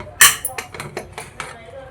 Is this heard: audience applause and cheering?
no